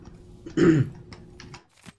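A single short throat-clearing cough sounds close to the microphone against a quiet background, with a few faint keyboard-like clicks around it.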